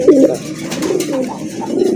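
Cooing of a pair of Sirazi pigeons, soft repeated low throaty calls close to the microphone, one fuller coo at the start followed by steady murmuring coos throughout with no talk.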